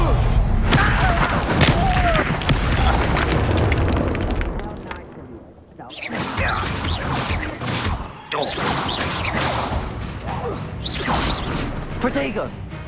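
Confringo and Incendio spell blasts in Hogwarts Legacy, loud booming fiery explosions with whooshes, one after another amid a chaotic fight, with a short lull midway before more bursts.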